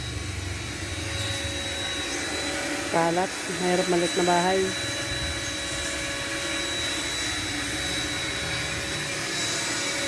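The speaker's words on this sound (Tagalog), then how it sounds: "Yung isa nagbabakyum." A vacuum cleaner runs inside a small house, a steady whining drone held throughout while a person briefly talks over it.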